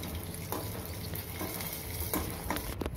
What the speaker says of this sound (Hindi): बादाम पप्पुलनु काजुलनु नेतिलो फ्राई चेसुकोवाली